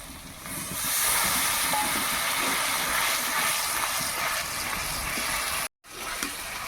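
Spiced water poured into a pan of rui fish cooking with fennel, cashew and ginger paste, giving a steady loud sizzling hiss that briefly cuts out near the end.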